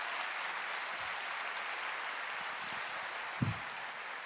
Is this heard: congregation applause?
yes